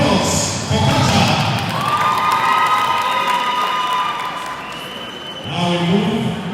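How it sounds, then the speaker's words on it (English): An opening ceremony crowd at a club championship cheers and applauds loudly and steadily. Whoops and shouts rise above the clapping, and the noise fades toward the end before a brief swell. "a huge round of applause for Kata"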